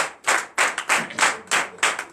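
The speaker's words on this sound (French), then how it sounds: "Donnez de vives acclamations à notre Seigneur Jésus." Church congregation clapping in unison during a Sunday worship service, a steady rhythm of about eight sharp, loud, close group claps, each ringing briefly, with no voices over them.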